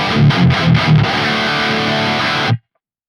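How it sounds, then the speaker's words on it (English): Heavily distorted electric guitar through an Archetype Gojira X amp plugin with a dynamic 57 mic, loud and alone, several choppy palm-muted chugs giving way to a sustained ringing chord that cuts off abruptly. "So currently we have a dynamic 57 mic"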